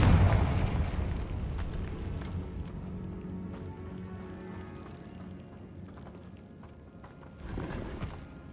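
A Confringo spell going off in Hogwarts Legacy: a blast opens loud and rolls off into a long, fading rumble, then a second, smaller burst swells near the end.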